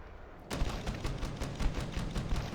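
Rifle fire in the Starfield video game starts abruptly after a moment of quiet and keeps going as a rapid, steady string of loud, close shots.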